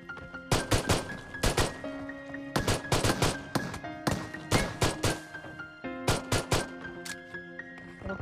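Gunfire in the video game PUBG comes in sharp, loud bursts of rapid shots, clustered into several volleys separated by short pauses.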